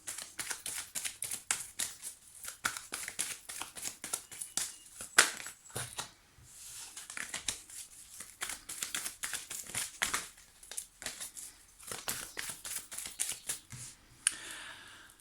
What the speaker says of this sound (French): je vais donc me concentrer sur votre demande pendant que je mélange les cartes